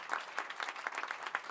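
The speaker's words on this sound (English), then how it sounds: "You can give me applause." Audience applause at a blockchain project meetup in Chicago, a steady patter of clapping hands that fills the room and holds at an even level, with no talk over it.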